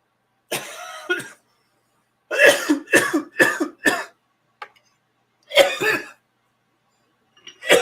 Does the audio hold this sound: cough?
yes